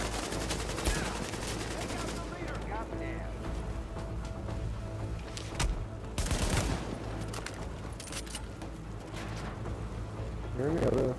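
Gunfire in the video game The Division, aimed at the player: sharp shots cracking out now and then over a busy background, with a louder burst near the middle and more shots at the end.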